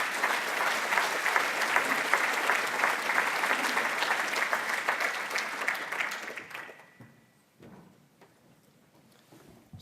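An audience at a behavioural insights conference plenary applauds to welcome the keynote speaker: dense, steady clapping from a large crowd that fades out and leaves near silence.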